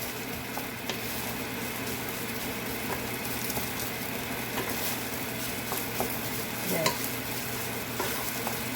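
Continuous sizzling and scraping as SPAM and ham fried rice is stirred in a hot pan, a steady close frying hiss with occasional utensil clicks and no talking.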